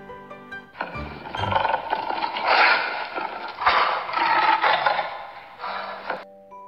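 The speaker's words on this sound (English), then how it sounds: "A lion lives in a cave." A lion roars in a long, rough, sustained growl lasting several seconds, loud and close, rising and falling in intensity.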